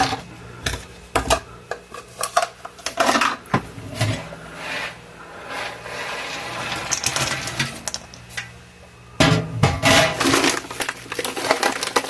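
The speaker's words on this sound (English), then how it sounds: "Now we're going to put our pecans and chocolate chips and fold those in" Pecans and chocolate chips being folded into brown butter cookie dough by hand, with repeated soft scraping and rubbing strokes in a bowl, some louder bursts near the start and end, moderately close and without talk.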